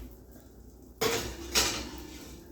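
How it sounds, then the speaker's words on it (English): A seared pork tenderloin in its pan is slid into a preheated 350-degree oven, giving two sharp metallic clanks of pan and rack about half a second apart, close and fairly loud, with no talking. "So we're going to put this in the oven here."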